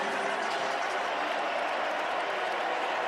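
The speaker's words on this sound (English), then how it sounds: "And listen to the sound of this crowd." A football stadium crowd of over 61,000 at an Iowa vs. Iowa State college game roars in a continuous, dense, even wash of cheering, loud and distant with no breaks.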